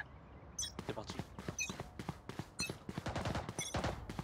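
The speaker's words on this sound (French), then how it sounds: "Oh, c'est qui tire là?" Rapid gunfire in the shooter game Valorant, a dense string of sharp bursts and single shots in quick succession, with footsteps between them and people talking faintly underneath.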